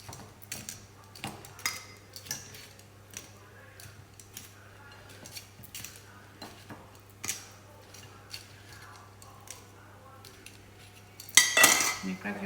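Freshly fried loukoumades, small Greek honey doughnuts, are set down on a plate with soft clinks and taps of utensils against dishware, intermittent and close, ending in a louder clatter.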